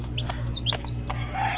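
Molting laying hens cluck and chirp in short bursts close by, several calls overlapping against a steady low hum, with no talking.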